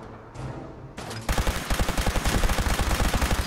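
Rapid automatic gunfire in the video game Fallout 4 bursts in after a couple of quieter shots, then hammers on as a loud, steady stream of closely spaced reports.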